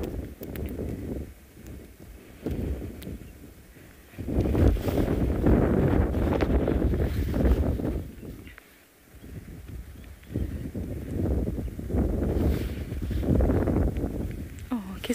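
Strong wind buffets the microphone on a cold, windy morning on a South African safari drive, coming in loud rumbling gusts that rise and fall with brief lulls, and a voice is heard faintly.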